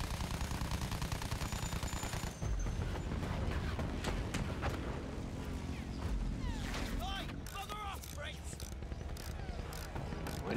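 Gunfire in Battlefield 1 crackles through busy combat audio, bursts of shots early on giving way to scattered reports and whistling effects, with a voice talking over parts of it.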